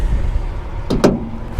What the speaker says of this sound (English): The hood closes, it does.